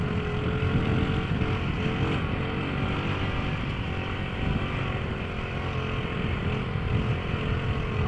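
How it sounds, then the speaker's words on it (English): A 1997 Honda 50R dirt bike is ridden on dirt, its small engine a constant close buzzing drone mixed with wind rush from a helmet-mounted camera. "I'm going to be riding my friend's little Honda 50R."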